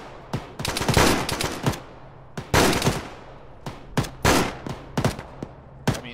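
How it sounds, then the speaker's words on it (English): Bursts of heavy automatic fire from a deployed mounted gun in the military shooter Arma, loud and close, coming in several rapid strings of shots separated by short pauses, with no talk over them. "We've got this gun deployed. Fire."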